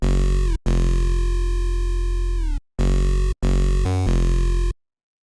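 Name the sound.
synth bass preset played in a music production breakdown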